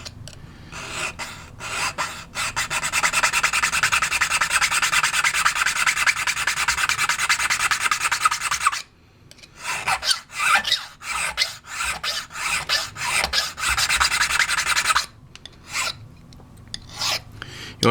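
Hand file rasping steadily across a challenge lock key to deepen its cuts, a long continuous run of strokes followed by shorter, choppier strokes with brief pauses, close and fairly loud.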